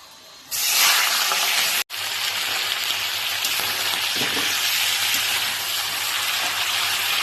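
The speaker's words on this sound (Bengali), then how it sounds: "পেঁয়াজ বসিয়ে দিয়েছি আর কাঁচা লঙ্কা, এটাও ফ্রাই করে নেব সুন্দর করে" Onions and green chillies frying in a pan give a loud, steady hiss and crackle that starts after a brief quiet moment, drops out for an instant, then holds at a constant level to the end with no voices.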